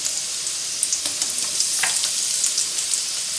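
Garlic sizzling and frying in hot oil in a wok, a steady loud crackling hiss with small pops and brief stirring scrapes throughout.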